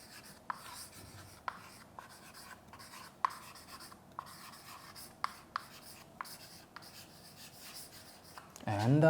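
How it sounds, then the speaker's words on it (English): Pen scratching steadily across the page of a copybook in a classroom, with sharp little taps as strokes start, continuing close and quiet for several seconds before a burst of louder noise at the end. "Take your copybook and write down the lesson."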